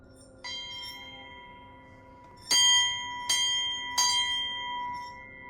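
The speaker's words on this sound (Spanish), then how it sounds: "escuchó el sonido de unas campanas" Bells ring out in a few loud, resonant strikes, each leaving a long shimmering ring that hangs in the air, after a softer earlier chime.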